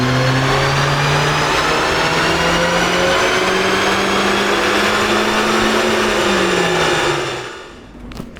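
A modified project car revs hard on a rolling road dynamometer indoors. The engine roars loudly and steadily, its pitch rising slowly, then it cuts off and winds down near the end.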